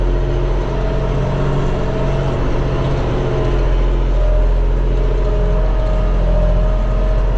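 A Deutz tractor engine runs steadily at close range in a corn field, a loud low droning rumble with a faint rise in revs, no voices over it.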